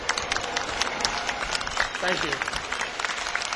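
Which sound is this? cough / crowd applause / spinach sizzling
crowd applause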